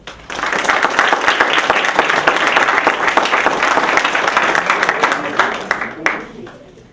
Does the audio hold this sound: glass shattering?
no